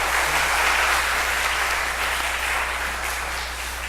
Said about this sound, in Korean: 박수를 돌리겠습니다.